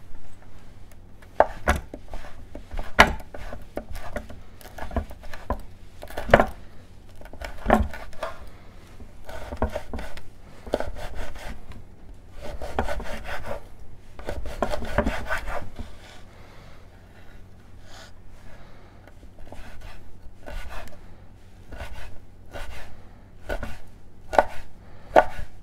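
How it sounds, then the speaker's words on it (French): Dried ham being minced very finely with a knife on a board: a close, fast series of sharp chopping taps in irregular bursts with brief pauses, and no talking. "on va l'émincer très finement."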